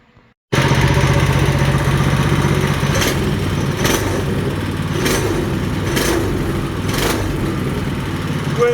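A Coleman RSV200 engine with a full throttle mod bursts into a loud, close, steady high-revving drone, with a few quick rhythmic blips riding on top of the sustained roar.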